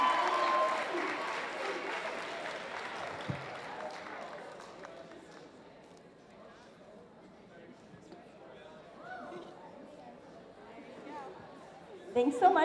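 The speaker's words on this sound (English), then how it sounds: "Let's give a round of applause for that great dance." Audience applause and cheering for a dance performance at a school pageant event, loudest at the start and fading under crowd chatter, with a fresh burst near the end.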